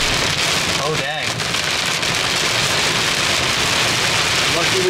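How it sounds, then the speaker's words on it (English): Heavy rain pours down steadily around a Landcruiser 120 Prado during an off-road trip in a thunderstorm, a dense, loud hiss throughout with a brief low rumble near the start. "Lightning and thunder."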